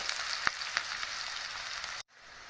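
Onion fries in refined oil for an okra sabzi, a steady close hiss and sizzle with a few sharp pops, cutting off abruptly near the end before resuming more softly.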